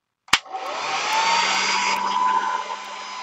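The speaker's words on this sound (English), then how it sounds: "So, where's my hair dryer?" A hair dryer switches on with a click and blows steadily, a loud continuous whooshing hum close by with no one speaking.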